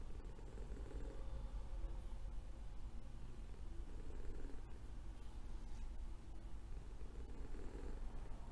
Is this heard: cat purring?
yes